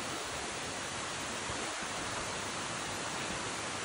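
A small waterfall stream on Koh Phangan rushes in a dense, steady roar of falling water, loud and close, with no voices.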